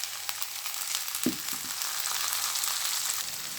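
Skinned tomatoes frying with onions in desi ghee over low-medium heat for tarka dal, a steady close sizzle throughout with a few soft stirring knocks near the middle.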